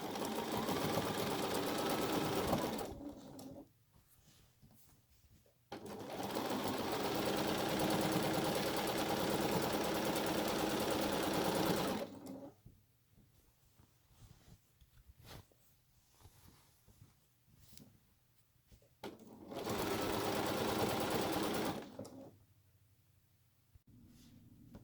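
A sewing machine with a walking foot stitches a quilt in three bursts of fast, even mechanical whirring, each several seconds long and separated by quiet pauses with faint handling noises.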